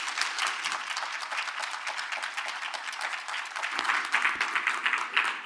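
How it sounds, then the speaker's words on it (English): An audience at an EU-Kenya business forum applauds a panel, a steady wash of clapping from many hands that swells slightly toward the end, with no speech over it. "Let's give another proper round of applause for this amazing panel"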